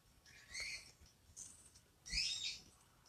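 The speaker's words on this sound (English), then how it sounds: "Also, do you hear the birds?" Faint, distant bird chirps come in two short bursts over a quiet background.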